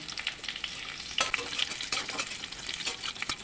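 Bay leaves sizzling in hot mustard oil with mustard seeds in a Bengali tempering, a fine continuous hiss with scattered sharp crackles and spits, close and moderately loud.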